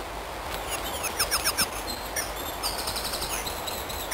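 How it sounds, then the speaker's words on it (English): Blue tits and coal tits calling in hanging woods on steep hillsides, a series of thin high repeated chirps and short trilled phrases over a soft steady background. "Members of the tit family are abundant."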